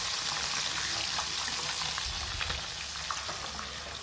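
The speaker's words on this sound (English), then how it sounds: "the rest of the fish I will fry until crispy" Fish fries in oil until crispy, giving a loud, dense and continuous sizzle with scattered crackles and pops throughout and no voices.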